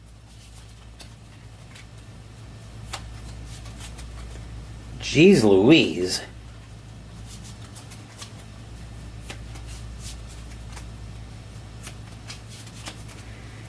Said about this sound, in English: Just shuffling everything back in off camera.